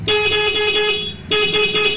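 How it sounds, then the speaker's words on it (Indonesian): A car horn sounds in two loud, steady blasts, a long honk followed after a brief gap by a shorter one, close by with no talking over it. "Terus kedua ini klakson, kalau misalnya akinya udah soak ya, dia nggak nyaring"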